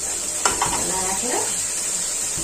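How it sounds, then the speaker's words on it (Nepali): Chickpeas tipped into hot oil with bay leaf and spices in a home kitchen, giving a loud continuous sizzle with a brief clatter and stirring scrape near the start, the frying alone throughout. "अब चाहिँ म यो चना यहाँ राख्दैछु"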